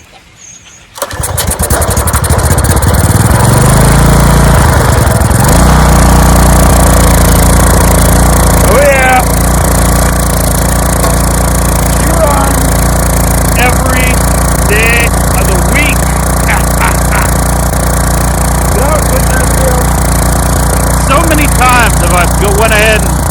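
A 14-year-old Briggs and Stratton generator engine, sat unused for over five years, cranks and fires, then settles into a loud, steady running drone close by, with someone talking over it now and then.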